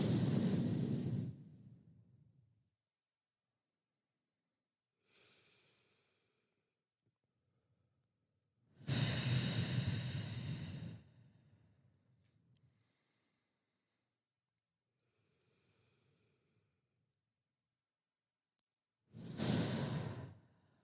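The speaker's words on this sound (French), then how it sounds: "je vous invite à faire 3 grandes respirations" Three deep, slow breaths, each a long audible inhale and exhale, spaced evenly several seconds apart with quiet in between, close and soft with no talking.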